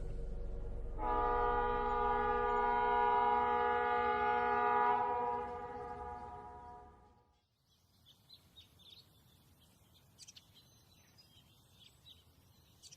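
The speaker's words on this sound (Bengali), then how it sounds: "ট্রেনের বাঁশি বাজল।" A train whistle sounds long and loud at a railway platform, holding for several seconds before fading away into a quiet stretch with faint birdsong.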